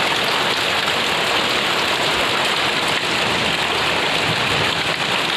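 Heavy rain pours in front of a house in a dense, unbroken roar that stays loud and steady throughout, with no voices.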